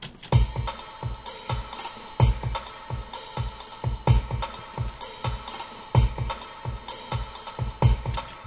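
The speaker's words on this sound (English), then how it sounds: "give it a wee play there to let you hear actually what the drums sound like in their own" A steady programmed drum beat at 128 bpm with punchy kicks and crisp hits repeating at a brisk dance tempo, playing alone with no other instruments.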